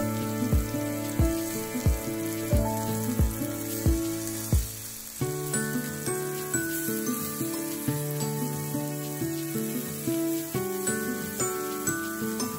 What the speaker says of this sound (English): you wanna sear the steak strips in batches for about a minute or two in each side